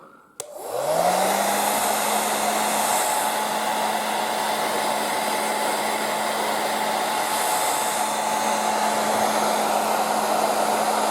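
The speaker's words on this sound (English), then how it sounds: "So if I can activate the hairdryer, there we go." A hair dryer clicks on and whirs up to a steady, loud blowing hum with a constant motor whine, running without pause, used to test a fire alarm system.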